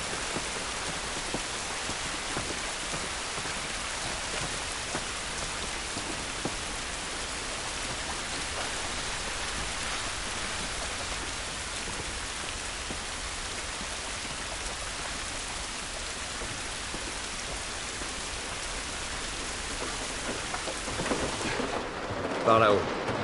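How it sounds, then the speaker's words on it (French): Steady rain pours down outdoors in The Last of Us, a dense, even hiss holding at moderate level for the whole stretch, with a faint voice briefly near the end. "Cette pluie ne va pas nous aider."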